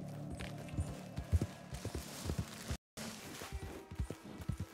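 Quick clip-clopping horse hooves trot along in Red Dead Redemption 2 over a low background, with a brief dropout of sound midway.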